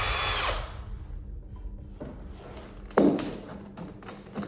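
A power drill bores through bathroom laminate, with a bright whine at the start, then quieter grinding and a sharp thump near the middle as the bit bites, followed by scattered taps and knocks.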